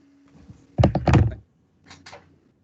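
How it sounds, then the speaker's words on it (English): A door opening in a stage play, with a cluster of close, loud thunks and clatter from the latch and frame, then a pair of softer knocks a moment later. "Opening the door and announcing, Inspector Gould."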